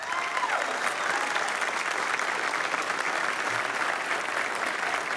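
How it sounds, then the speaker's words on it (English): A church audience applauds steadily, dense clapping from many hands filling the room evenly throughout, with no voice over it. "while you are applauding"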